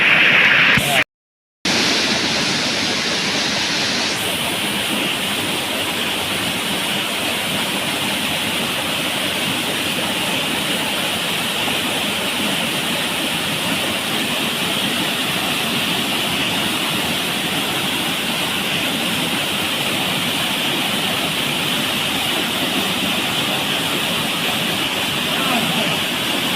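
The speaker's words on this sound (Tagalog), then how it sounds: "Second waterfall. Waterfall down there." Bangon Falls waterfall roaring as a loud, steady broadband rush of falling water, close and constant after a brief dropout at the start, with no talk over it.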